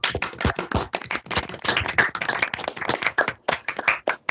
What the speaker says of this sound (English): Let's maybe get a round of applause on camera before we stop the recording.